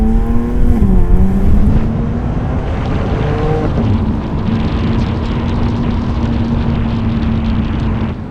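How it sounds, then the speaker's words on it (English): BMW M2 G87 with a titanium equal-length valved exhaust accelerating in first gear, a loud continuous engine drone that climbs in pitch through the revs, dips and steadies into a sustained cruise tone, with no talking. "You can definitely hear that valved exhaust a little better than I thought you would"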